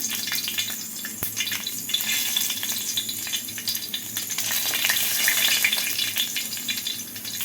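Mustard seeds, cut chillies and curry leaves sizzling in hot oil for a homestyle Kerala curry, giving a continuous bright crackle with scattered pops and a single sharp clink.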